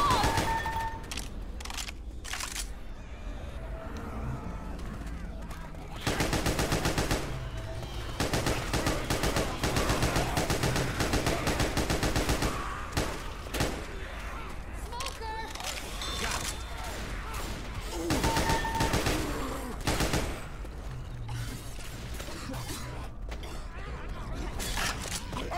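Heavy gunfire in the zombie shooter Left 4 Dead 2, with rapid automatic bursts and sustained volleys packed densely throughout, loud and close, broken by brief gaps and occasional mechanical clanks.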